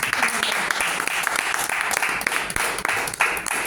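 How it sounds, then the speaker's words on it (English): An audience applauds outgoing club officers at an installation ceremony, steady dense clapping filling the room throughout with a few louder claps standing out near the end. "A round of applause."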